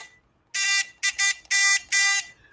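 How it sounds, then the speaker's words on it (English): A harsh electronic buzzer effect played during a live stock-market stream sounds four times, a long blast followed by quick irregular bursts, loud and unaccompanied. "We got the buzzer."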